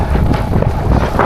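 Strong gusts buffet the microphone in an open area during a bike ride, a loud, continuous low roar with no voices.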